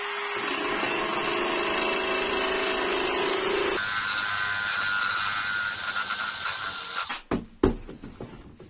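Steady high-pitched whine and hiss of an abrasive disc spun by a cordless drill grinding against a metal file, shifting pitch midway, then stopping with a few clunks.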